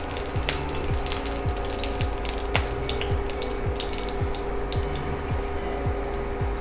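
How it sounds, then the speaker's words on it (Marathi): Oil poured into a pan already holding hot ghee produces a steady, close sizzle with quick crackles and faint dripping ticks, continuous and without any voice. "आता त्याच्यात घालूया तेल."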